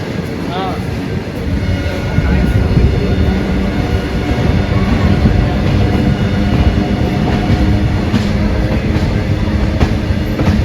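A freight train carrying petrol and diesel rolls past near Chalisgaon junction, a loud continuous rumble and clatter of wagons that grows heavier after the first couple of seconds and holds steady.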